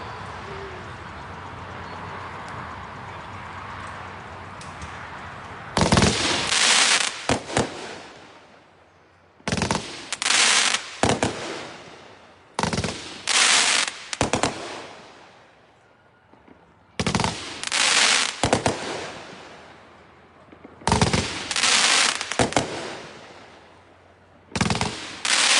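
A 500 gram Light of Illusion firework cake fires its 42 shots in loud rapid bursts, grouped into several volleys with short pauses between them at an outdoor night demo shoot.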